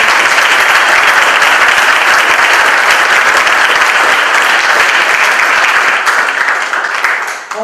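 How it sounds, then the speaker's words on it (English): A loud, dense round of audience applause for three candidates at an evening event, sustained wall-to-wall clapping that stays full for most of its length before thinning out at the very end. "If you would please offer a round of applause for all three candidates for their service."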